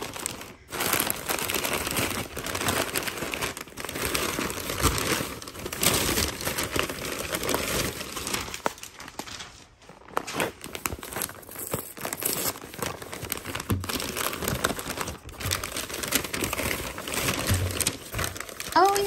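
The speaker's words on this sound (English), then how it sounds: "There will be paper noise, so just be prepared." Paper wrapping crinkles and crumples continuously while antique shop purchases are unwrapped, a close, busy rustle and tearing texture that runs throughout with only a brief lull.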